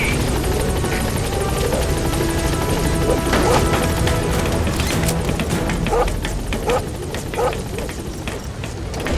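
Pequod helicopter hovering at a landing zone in Metal Gear Solid V, a steady loud rotor thrum and whine throughout, with scattered thuds and clanks over the top.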